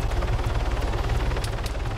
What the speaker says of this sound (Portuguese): olha o helicóptero ali carregando um quad bike, velho.